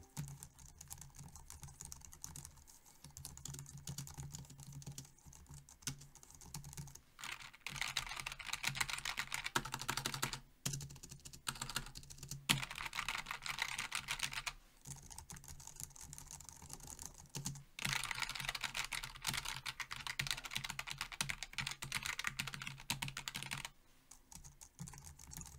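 Steady, rapid typing on a Logitech MX Keys Mini low-profile keyboard, close up, with soft muted clacks coming in bursts separated by brief pauses.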